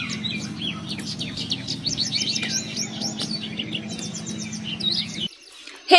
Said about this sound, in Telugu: ఒక్కసారి పక్షులు చేసే సౌండ్స్ వినండి